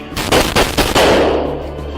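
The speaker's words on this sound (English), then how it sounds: "Gunfire erupted fiercely," Gunfire in a police shootout rips out in loud, rapid bursts of close shots. The shots run together and then fade into a ringing, echoing tail.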